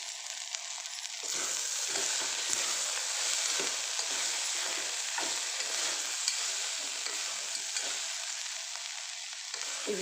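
Ingredients for eggplant dal frying in hot oil, a steady close sizzle with occasional crackles and stirring scrapes, no talking.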